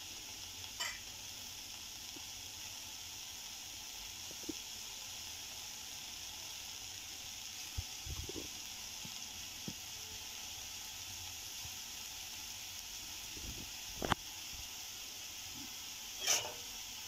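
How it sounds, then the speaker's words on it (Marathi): Bitter gourd sizzles quietly in a kadhai with a broken handle, a steady soft frying hiss throughout, broken now and then by faint clicks and scrapes of stirring. "कारलं सर्वप्रथम आपल्याला भाजून घ्यायचे आहे."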